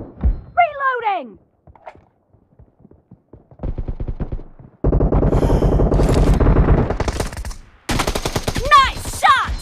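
PUBG Mobile gunfire in a domination match. Rapid automatic bursts rattle loud and close, with sustained dense volleys broken by short pauses and some single shots, mixed with game effects and brief voice callouts.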